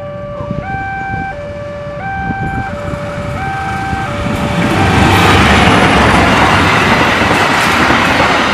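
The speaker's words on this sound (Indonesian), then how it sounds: "Kita tunggu kereta apinya melintas langsung di PJL 154. Ini dia kereta apinya." A warning tone alternates in a steady two-note pattern at level crossing PJL 154 in Karawang, Indonesia, while a loud, rushing rumble builds as a train passes close by.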